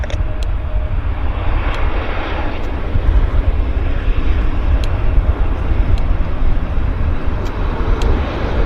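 An airliner, a classic model without winglets, lands at Vancouver airport, a loud, continuous broadband engine roar held steady and close throughout, with faint faded radio chatter beneath.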